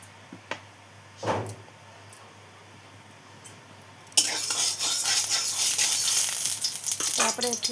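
Oil hitting a hot kadhai bursts into loud, steady sizzling partway through, after a quiet stretch with a few utensil clinks and taps, while Odia fish curry is being cooked.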